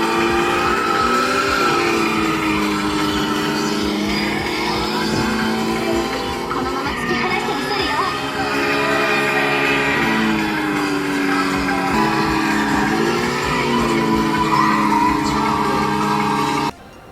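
An Initial D arcade racing game plays as an AE86 is driven on Mount Akina, giving a loud, continuous mix of engine whine, shifting tones and game music from the cabinet, steady throughout and ending abruptly.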